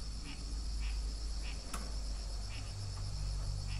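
Rock frogs calling at night near a river, with short repeated calls at a steady pace over a dense, continuous chorus of crickets and insects.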